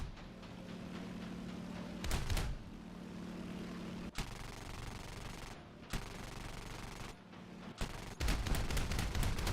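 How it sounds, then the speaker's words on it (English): Rattling machine-gun bursts and heavier booms from a War Thunder match involving a tank, fairly faint and steady under an engine drone, with sharp louder bursts repeating every couple of seconds. "I'm going to shoot him."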